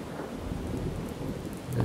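A rainstorm in the survival game Miscreated, with steady rain hiss and a low, continuous rumble of thunder underneath, quiet but unbroken throughout.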